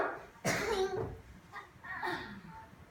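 A single sharp sneeze bursts out, close and loud, followed by a quieter breathy sound.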